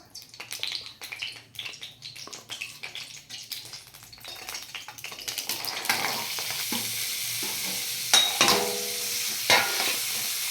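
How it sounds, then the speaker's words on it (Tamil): Vegetables for homemade veg noodles are tossed into hot oil in a pan, starting as intermittent clattery stirring and then building into a steady, close sizzle with a few sharper scrapes toward the end. "நல்லா ஃப்ரை பண்ணிக்கோங்க"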